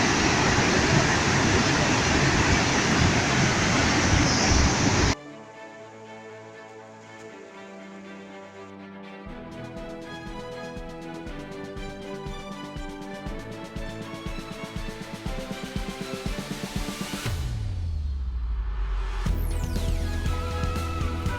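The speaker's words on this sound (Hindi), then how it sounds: "झरने की कलकल ध्वनि," Purwa Falls waterfall in Rewa, Madhya Pradesh, in the rainy season: a loud, steady broadband rush of falling water fills the first few seconds, then gives way to music.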